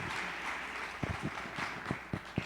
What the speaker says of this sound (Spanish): le damos un aplauso al Señor por él